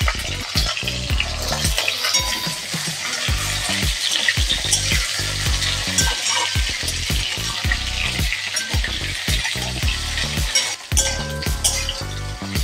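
Potato, papaya and carrot fry in hot oil in a pan for shukto, giving a loud, continuous sizzle broken by repeated scraping stirs and occasional clinks of a utensil against the pan.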